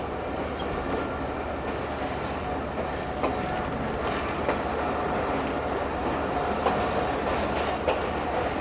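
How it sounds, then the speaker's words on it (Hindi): Baba Bulleh Shah passenger train, 258 Down on Pakistan Railways, departing on its first run: a steady, loud rumble of rolling wagons with faint clattering wheels and occasional squeals, no voices. "तो 258 down Baba Bulleh Shah passenger is going for its first run"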